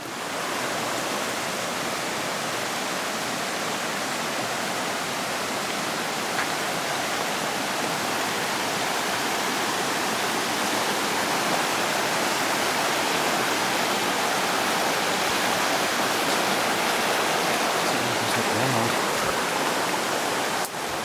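A creek in remote wilderness flows without pause, a dense, even rush of water that stays loud and close from start to finish.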